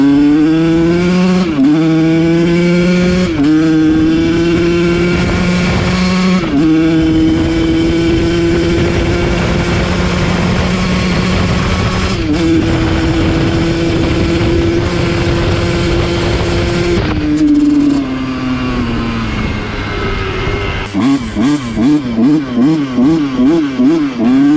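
A Kawasaki KX125 two-stroke dirt bike engine, recorded up close on a ride, screams loudly through repeated rising revs with gear changes and short throttle dips, ending in choppy, blipping bursts.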